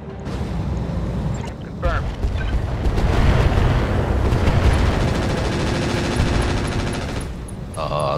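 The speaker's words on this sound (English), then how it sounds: "Those machine guns just wreck them." Mechs in the video game Battletech Roguetech fire machine guns in dense, rapid bursts that build into a loud, sustained roar of gunfire, with brief pauses near the start and end.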